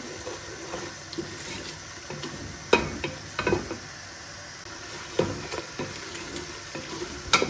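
Chicken sautés in a pan for a turnip chicken (shalgam gosht) curry, a low steady sizzle broken by sharp scrapes and clacks of a spoon stirring, moderately close.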